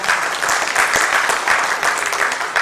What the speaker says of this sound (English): So please give yourselves a big hand.